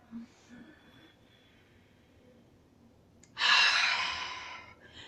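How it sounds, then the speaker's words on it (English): A deep breath, drawn in and then let out hard through the mouth in a relaxing Kung Fu breathing exercise: a quiet intake followed by a loud, close, rushing exhale lasting over a second. "exhale through your mouth"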